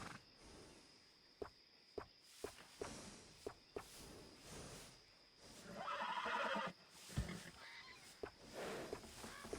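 A horse in Red Dead Redemption 2 whinnies loudly near the middle of the clip, and its hooves clip-clop in an irregular walking rhythm throughout, with game ambience in the background.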